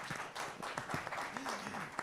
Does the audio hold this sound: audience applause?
yes